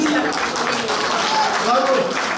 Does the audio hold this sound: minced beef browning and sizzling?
no